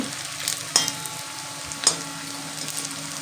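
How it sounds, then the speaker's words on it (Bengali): Pakoras fry slowly in hot oil, a steady close crackling sizzle with a couple of sharper pops along the way; no voices. "তো এইভাবে সুন্দর করে ধীরে ধীরে ভেজে নেবে।"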